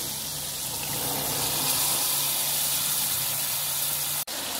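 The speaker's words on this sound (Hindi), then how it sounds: "अब इस मरहले पर मैं इसके अंदर ये चने ऐड कर दूँगी और थोड़ा सा इनको भूनूँ।" Chickpeas roasting in a spiced masala for degi chana rice give off a loud, steady sizzling hiss that runs close and unbroken, cutting out for an instant near the end.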